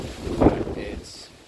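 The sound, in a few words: gusts of wind on a trail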